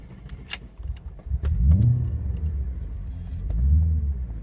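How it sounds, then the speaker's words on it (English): A 1994 BMW E34 530i wagon engine cranks and catches, then idles with a deep exhaust rumble that swells twice, close up, with a faint jangle early on. "Hear that exhaust."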